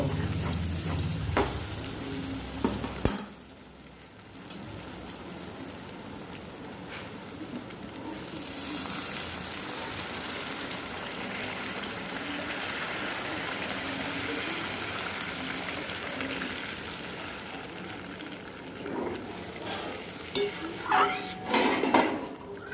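Water is poured into fried spices in a pan for a Bengali fish curry with potatoes, setting off a loud steady sizzle after some clanking of cookware, with utensil clinks and scraping near the end.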